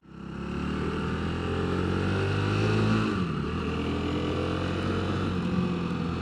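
2022 Rieju MRT 125 SM LC supermoto motorcycle being ridden, a steady droning engine hum close by that holds the same pitch before dipping briefly as it shifts, then carrying on evenly, with no speech.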